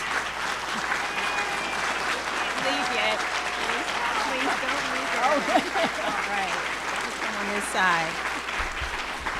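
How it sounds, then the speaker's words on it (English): Steady, dense applause from a crowd at a county State of the County address fills the whole stretch, with a few voices and cheers rising faintly through the clapping. "Please give her a round of applause."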